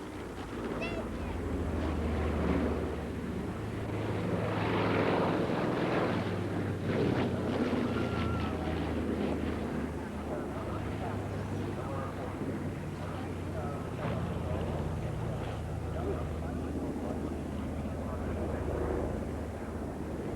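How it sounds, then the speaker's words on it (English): Catalina flying boat in flight, with a constant engine drone and wind rush throughout, while a voice speaks over it. "Flown today by Paul Warren Wilson, who is a serving Royal Air Force pilot, who flies Harriers when he's not flying the Catalina"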